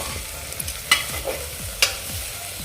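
Vegetables for bhogichi bhaji sautéing and being stirred with spices in a pan over a low flame, a soft sizzle underneath with occasional sharp scrapes and clinks of the spoon.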